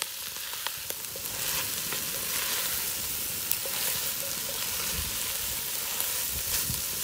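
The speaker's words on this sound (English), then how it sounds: "we're adding the celery and the mushrooms. We're going to brown that with this Impala pot together with the onions" Celery and mushrooms sizzle and fry steadily with onions in a potjie pot over a wood fire, a continuous crackling hiss with faint clicks and stirring sounds throughout.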